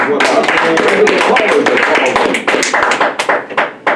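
An audience gives a round of applause, sharp close claps densely layered over chatter and speech, thinning out toward the end.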